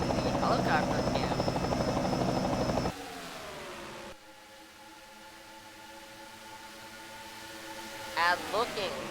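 Simulated helicopter camera audio from NASCAR Racing 2003 at Auto Club 400: a steady loud rotor drone over race-car engine noise, dropping to a quieter engine hum partway through, with a commentator talking throughout.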